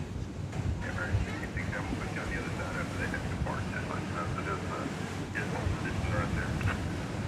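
An airliner departing Dallas Fort Worth Airport on flight 187 for Los Angeles produces a continuous broadband engine rumble with wind noise on the microphone and faint background voices over the whole stretch.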